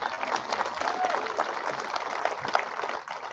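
A high school graduation audience claps steadily, a dense patter of many hands from a crowd heard at a moderate distance, fading slightly at the end.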